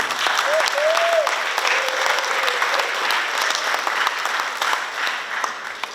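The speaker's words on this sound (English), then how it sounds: "May I ask that we give our keynote speaker another round of applause." An audience at a graduation ceremony in Pohnpei applauds the keynote speaker, a sustained, dense round of clapping filling the room, with faint voices underneath.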